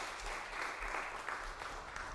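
Audience applause for the families, parents and grandparents at a youth poetry recitation competition, a steady wash of clapping filling the hall at moderate level throughout, with no voices over it.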